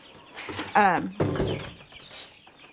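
Chickens clucking close by, a few loud harmonic squawks and chatters in quick succession.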